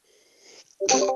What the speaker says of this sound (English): Sorry for the sneeze.